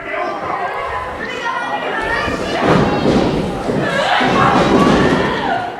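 A wrestler's takedown hits the ring mat with dull thuds at a women's wrestling show, amid crowd chatter and cheering and over a commentator's voice.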